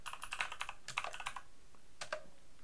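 Quick close taps on a computer keyboard while typing code, a fast burst of keystrokes, a short pause, then a few more keys, fairly quiet.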